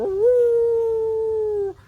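A voice imitates a dog's loud, high, wailing howl, holding one steady drawn-out tone for under two seconds before it cuts off abruptly.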